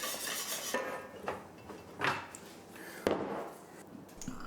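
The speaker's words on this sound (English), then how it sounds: "To flavour the sauce, I'm adding mustard powder, garlic powder, and onion powder." A whisk clinks and scrapes against a pot as flour, mustard powder, garlic powder and onion powder are stirred into a macaroni cheese sauce, with a few sharp metallic taps amid quieter stirring close by.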